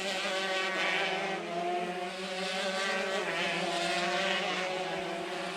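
Shifter racing karts scream around a track in a race, a continuous high-pitched, buzzing engine wail that swells and fades slightly as the karts pass, moderately distant with no talk.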